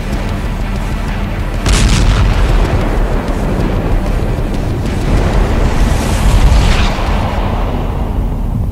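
An atomic bomb explosion sound effect: a loud, sustained deep rumbling roar with a sharp blast burst near the start and another swell later, dense low-end turbulence throughout.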